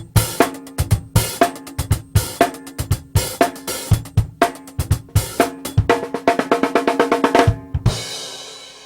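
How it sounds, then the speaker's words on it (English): A drum kit groove with steady kick and snare hits, close and loud, building into a fast single stroke roll on the snare and ending with a flam and a ringing cymbal crash. "Single stroke roll and flam."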